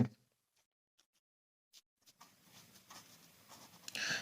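A black pen writes an answer on paper, giving soft, faint scratching strokes in short bursts separated by pauses, growing busier and slightly louder toward the end.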